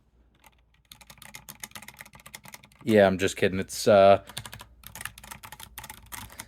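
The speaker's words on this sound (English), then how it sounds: "what does this thing sound like? Feast your ears, because you're about to hear the best sounding keyboard" Rapid clacky typing on a budget mechanical keyboard with red switches runs throughout, briefly interrupted by someone speaking in the middle before the keystrokes continue.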